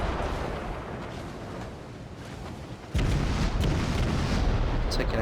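Cruiser guns of the USS Atlanta in World of Warships fire in a steady rumbling barrage, dense booming bursts that jump louder partway through and continue without pause.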